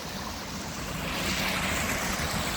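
Water rushing through the sluice way of an old mill along a bike trail, a steady broadband wash that holds a constant level with no voices.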